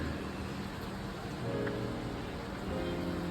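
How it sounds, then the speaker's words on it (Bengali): Rain falls steadily during a rainy day, a soft, even hiss of drops with no breaks, heard from a short distance at low volume. No one speaks. "খুব সুন্দর বৃষ্টি পড়ছে।"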